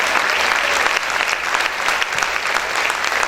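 Church congregation applauding loudly, a steady dense wash of many hands clapping close and continuous without pause, no voices standing out.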